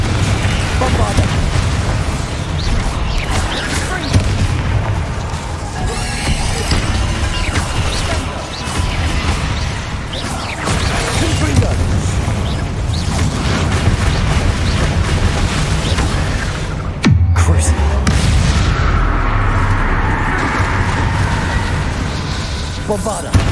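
Spell blasts and crashing explosions from Hogwarts Legacy, played on PS5, boom repeatedly and loudly through the stretch. The Bombardo strike shows as a sharp heavy impact near the end, with voices casting spells amid the combat din.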